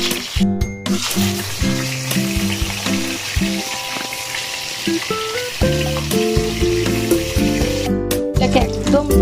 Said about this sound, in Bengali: কড়াইয়ের মধ্যে তেল গরম করে টমেটোগুলিকে ভালো করে ভেজে নেব।